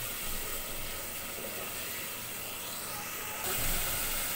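Spices sizzling in a pan while being sautéed for a mutton curry, a steady close hiss running throughout and growing slightly louder near the end.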